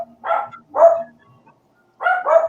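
Real dogs bark indoors, loud and close, in three short sharp barks: two spaced apart, then a pause and a quick final pair, with near silence between them.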